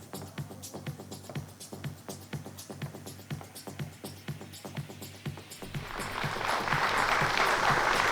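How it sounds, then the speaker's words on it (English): Audience applause at the SocioFare Awards ceremony in Delhi honouring uniformed personnel, starting as scattered rhythmic clapping and swelling into a fuller, louder ovation toward the end. "A huge round of applause"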